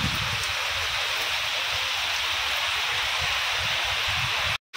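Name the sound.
heavy rain falling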